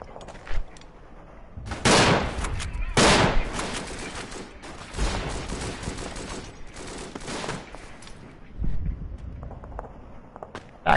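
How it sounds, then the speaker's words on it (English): An artillery bombardment in the World War I game Verdun brings heavy, booming blasts and rumbling gunfire, loud and close, with scattered shots and a rolling background roar between the impacts. "we were trying to get a little bit of the artillery bombardment"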